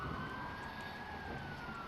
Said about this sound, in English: There's a police car coming past